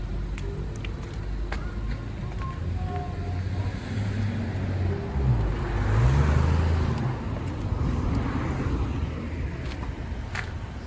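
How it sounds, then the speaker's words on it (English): An unattended car left running while parked, idling in the open with a steady engine rumble and passing road traffic; the level swells briefly midway as something nearby grows louder, with no speech. "This car is running and no one is inside of it."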